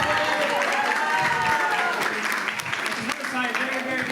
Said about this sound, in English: And a big round of applause to Kavesh for organizing this drama.